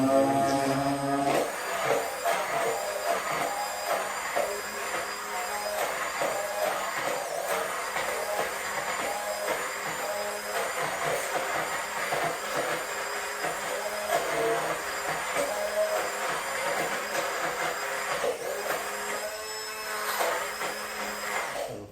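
Electric hand mixer beating dog birthday cake batter in a bowl, a continuous close motor whir with a rattling drone holding steadily for over twenty seconds, no voices over it.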